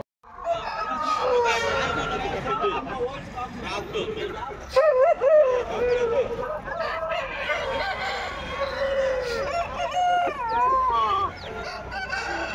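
Roosters crowing and hens clucking at a busy Friday market selling parrot-beak chickens, loud and continuous with repeated overlapping crows, goose-like honks and constant crowd talk.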